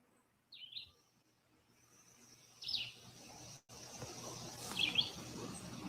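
Faint birds chirp outdoors within city limits, a few short high calls scattered over quiet background hiss and low ambient noise.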